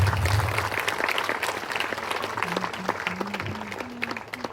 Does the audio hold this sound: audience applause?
yes